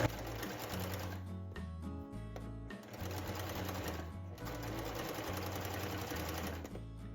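A sewing machine stitches a dress seam on a Serenade Dress, running in steady loud whirring stretches broken by two brief pauses.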